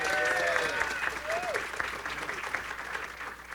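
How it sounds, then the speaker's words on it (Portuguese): Audience at a talk on fighting fake news in Brazil gives a speaker a steady round of applause, a dense wash of clapping with whistles and a faint voice at the start. "Uma salva de palmas."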